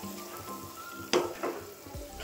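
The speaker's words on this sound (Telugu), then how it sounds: "ఇవన్నీ కూడా టమాటాలు, పచ్చిమిర్చి ఇవన్నీ కూడా బాగా వేగాయండి" Chopped tomatoes and green chillies fry in a pan with ginger-garlic paste, turmeric and salt, a soft continuous sizzle with a couple of sharper stirring scrapes midway.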